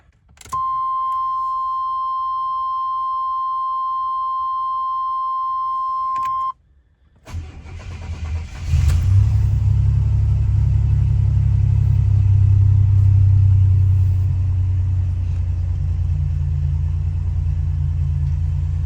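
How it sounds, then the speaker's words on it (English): A 1987 Buick Regal Limited turbo starts up after a steady electronic warning chime; the engine catches with a quick crank and settles into a loud, deep, continuous idle rumble. "Plug it back in, start the car, and we'll go from there."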